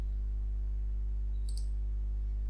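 A computer mouse clicks twice in quick succession while working in Creo Parametric CAD software. The clicks are sharp and brief over a steady low electrical hum.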